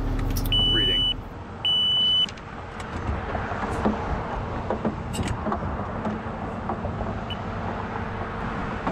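Two short, high electronic beeps from a voltage detector on the dead side of a three-phase power line sound one after another at the start, followed by a low vehicle rumble and faint background noise.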